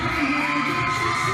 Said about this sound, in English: Oh, there's some screaming.